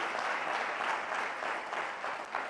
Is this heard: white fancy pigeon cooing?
no